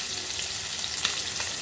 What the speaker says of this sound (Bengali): মাছ ভাজাটা কেমন হচ্ছে দেখেন তো